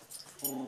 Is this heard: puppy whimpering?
yes